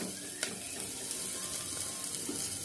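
Cumin, shallots and curry leaves sautéing in a pan while preparing soya chunk rice, with a steady soft sizzle and a few light scraping stirs, no talking.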